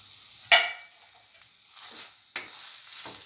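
Chickpea coconut tamarind rice mixture stirred in a pan, with a sharp scrape of the spoon followed by softer intermittent scrapes and a faint steady sizzle.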